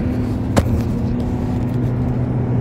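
Steady low car engine and road rumble from inside a moving car, with one brief sharp knock early on and no voices.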